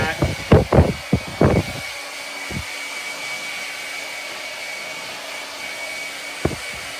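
Hair dryer blowing hair dry during a fade haircut, a steady close whoosh throughout, with a few short thumps and clatters near the start and one more near the end.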